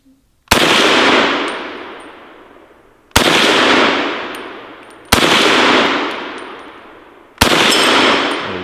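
Four loud rifle shots fired at outdoor targets, each sharp crack followed by a long ringing decay, spaced a few seconds apart, with no talking.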